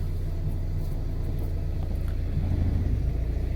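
Car pulling away as the clutch is released, a steady low engine rumble that swells slightly as the vehicle gets moving, close and continuous with no talk.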